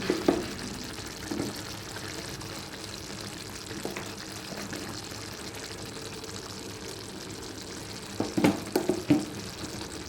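Ridge gourd curry with tomatoes and red chilli powder sizzles steadily in a pan, with soft stirring scrapes and a few sharper clinks of a spoon near the end.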